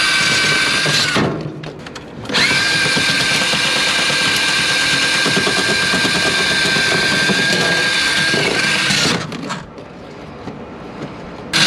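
A Ryobi One+ 18V cordless drain auger spins its cable in a clogged drain, a loud steady motor whine with a high tone, running in two long bursts separated by brief pauses and ending quieter.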